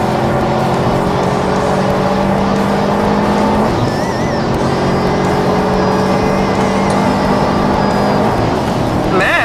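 An STI race car runs a fast lap on a circuit, its engine a loud, sustained drone that rises and shifts in pitch, with a voice talking over the roar throughout.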